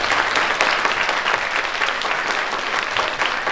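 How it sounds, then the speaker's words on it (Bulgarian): Applause for kindergarten children at a celebration, a dense, continuous wash of many hands clapping, close and loud for several seconds without pause. "Моля вашите аплодисменти за сладките ешковци"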